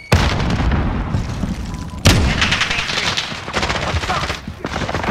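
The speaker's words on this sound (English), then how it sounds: "Grenade out! Throwing stun!" Stun grenade blasts in a video game shoot house amid dense, continuous gunfire, with sharp loud bangs near the start and around two seconds standing out over a busy, noisy battle mix.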